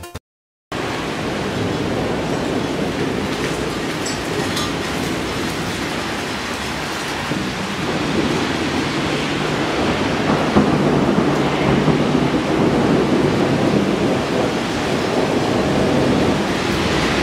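A thunderstorm with steady, loud rain and low rumbling thunder that swells partway through. The wash of noise holds constant and close, with no voices.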